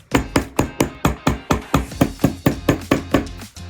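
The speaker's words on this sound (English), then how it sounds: "we're going to hammer them so they sit flat" About fourteen sharp hammer blows flatten silver pieces for a cuff bracelet in a steady, even rhythm, close and loud with brief ringing after each hit.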